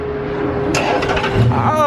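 A car, mentioned alongside a 3.4 V6 Impala, started with a push-start button, its engine catching with a brief crank and rising rev close by, with people talking around it.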